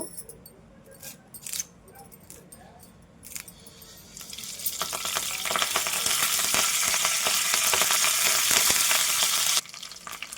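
Quiet clinks and small movements give way to a loud, bright sizzle of mustard seeds and curry leaves hitting hot oil, crackling steadily before cutting off abruptly.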